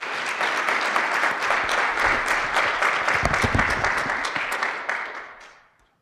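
Audience applause at a meeting, steady dense clapping from a crowd that holds for about five seconds, then fades out quickly at the end.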